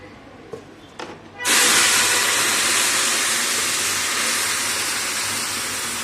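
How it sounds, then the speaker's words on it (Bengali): Milk poured into a hot pan of sugar syrup for a fried vermicelli (semai) dessert: after a couple of light taps, a sudden loud, sustained hiss and sizzle that holds steady and fades only slightly. "এবার আমি এতে দুধটা দিয়ে দেবো।"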